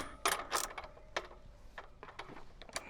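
Ratcheting metal clicks and clatter from a wrench loosening the 27mm nut on a Surron Ultra electric dirt bike, several short bursts spaced irregularly, close and fairly quiet.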